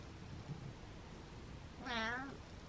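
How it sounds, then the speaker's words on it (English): A house cat, an older male about to start thyroid medication, gives a single clear meow near the end over a quiet room hum, with no talking during it. "Meowing and purring."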